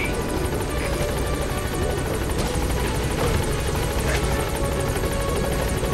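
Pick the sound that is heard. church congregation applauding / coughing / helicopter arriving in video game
helicopter arriving in video game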